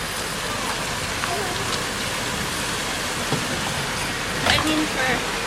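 Rain falls steadily during a horse-drawn carriage ride, an even wash of hiss with scattered clicks and knocks and a brief louder rattle near the end.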